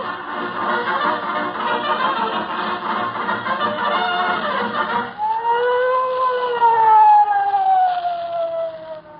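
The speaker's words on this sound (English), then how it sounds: "What's the idea of sounding the siren, Officer Mahoney?" A loud wailing police siren sound effect in a 1946 radio show rises and falls continuously, with a smooth sweeping tone taking over midway through.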